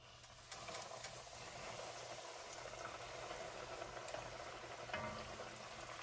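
Shrimp frying in hot grease, a steady dense crackle and sizzle at close range that runs the whole time without pause, with a slight swell near the end as more pieces hit the oil.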